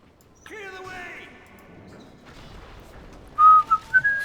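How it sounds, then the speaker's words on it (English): A person whistles the catchy Tom Bombadil song over Battle for Middle-earth II gameplay: a wavering tune at first, then a few short, louder whistled notes near the end, set against faint background game sound. "Oh, sorry, I shouldn't whistle."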